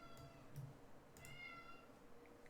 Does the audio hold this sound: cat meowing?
yes